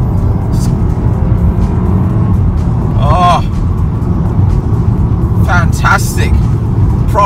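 A BMW Z4 with an 8-speed automatic gearbox, driven in sport mode on national-speed-limit country roads, gives a steady engine and road roar beneath someone talking.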